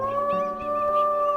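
A wolf's drawn-out howl call in WolfQuest: Anniversary Edition, a steady sustained tonal wail lasting the whole moment, close and clear with no talking.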